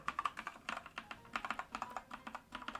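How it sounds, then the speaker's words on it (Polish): Sharkoon Skiller MECH SGK1 mechanical keyboard with quieter switches being typed on, a fast irregular run of crisp close key clicks in bursts with short pauses, no voices. "A propos klików, które aktualnie dziś tutaj wykonuję"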